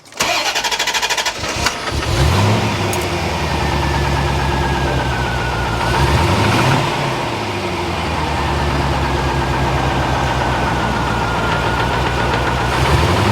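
A C4 Corvette ZR-1 V8 cranks and catches, then settles into a rough, uneven idle with the revs swelling and dipping, close by and loud throughout.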